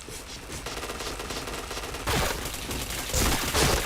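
Rapid automatic gunfire rattles in a video game shooter, continuous bursts growing louder and denser in the final second and a half, with no talk over it.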